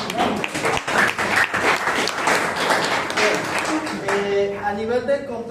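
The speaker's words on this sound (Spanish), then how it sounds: "Vamos a darle un fuerte aplauso." An audience applauds at a talk on a coach's daily performance control strategies, a dense clapping that holds steady and then fades as a voice starts speaking.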